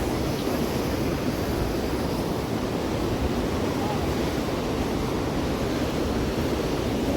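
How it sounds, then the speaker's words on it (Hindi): A mountain river rushes alongside the trail from Panchtarni toward the Amarnath cave, a loud, constant broadband roar with wind on the microphone that runs unbroken through the clip. "एक तरफ साथ में नदी चल रही है।"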